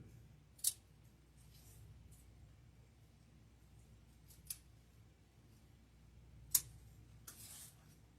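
Scissors trimming fig leaves while making a Halloween grapevine wreath, a few sharp isolated snips spaced seconds apart over near silence.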